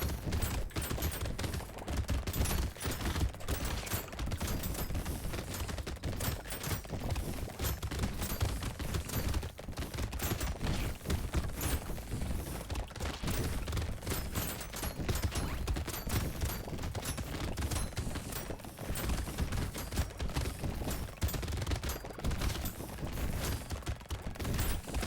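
Dense, nonstop gunfire in the top-down shooter game Brotato, a crowded wave of floating enemies and weapons firing continuously as a loud, rapid crackling barrage with no pauses.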